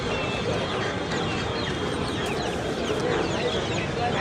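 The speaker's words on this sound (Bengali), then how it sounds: "ফ্রেন্স আইটেমের মুরগি" French breed chickens cluck constantly in a dense, noisy crowd at the Tongi chick market, with busy market chatter mixed underneath throughout.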